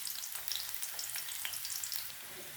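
Chopped onion sizzles and fries steadily in hot oil in a kadai, a close, continuous crackle with faint stirring, no voices.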